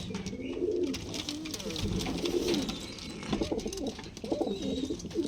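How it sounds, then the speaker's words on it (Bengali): Several Madras pigeons coo continuously at close range, overlapping low throaty calls with some fluttering and shuffling around them. "ভালো কোয়ালিটির ম্যাড্রেস পায়রা আছে ভেতরে"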